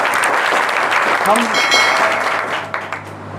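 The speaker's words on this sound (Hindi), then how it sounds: "इसके लिए मैं दोनों तालियां बजा के आप लोग स्वागत करें।" An audience at an education event claps to welcome a speaker, a loud, dense burst of applause with a brief spoken word mixed in, fading slightly toward the end.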